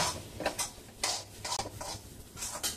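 A spoon scrapes and stirs a thickening coconut burfi mixture in a pan, giving a series of soft, irregular scraping clicks close by with quiet gaps between them and no talking.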